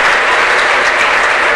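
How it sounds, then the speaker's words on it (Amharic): Applause and ululation from a church congregation during a teaching on discipleship, a dense, steady wash of clapping that fills the whole stretch, loud and close, with no speech over it. "ጌታ ታላቅ ጭብጨባና እልልታ እንስጣ"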